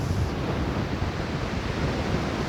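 Ocean waves wash in a constant broadband roar with wind mixed in, dense and fairly loud throughout, with no voices.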